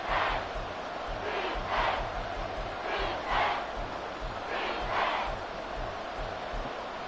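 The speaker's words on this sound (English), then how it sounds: "This crowd doing all they can." A stadium crowd in a 2K football video game roars in repeated swells of cheering, loud and sustained, with rhythmic chanting pulses underneath and no commentary over it.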